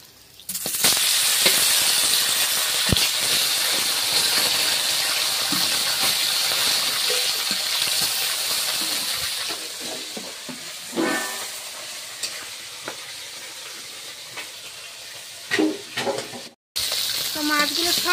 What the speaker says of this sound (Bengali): তো মাছগুলো সব ভাজা হয়ে গিয়েছে